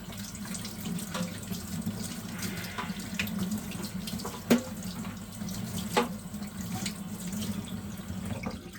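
Tap water runs steadily into a sink while soap is rinsed off a 3M respirator mask, with a constant close splashing flow, occasional louder knocks of handling and no talk.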